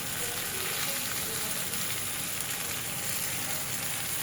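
Vegetables for a green banana and hilsa curry frying in a pan, giving a steady, continuous sizzle that stays even and fairly close throughout with no talk over it.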